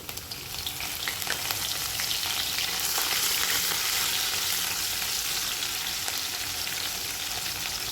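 Green chillies, garlic, cumin and a pinch of asafoetida frying in hot oil, a dense steady sizzle with crackling bursts that swells slightly midway and holds for the whole stretch, with no voices.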